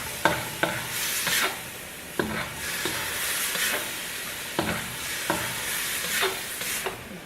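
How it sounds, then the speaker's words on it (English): A spoon stirs and scrapes food sizzling in a hot pot, with repeated sharp scrapes every second or so over a continuous frying hiss. No one speaks. "Stir it up real good."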